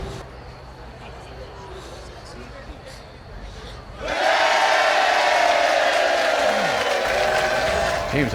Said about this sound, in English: they're definitely cheering for us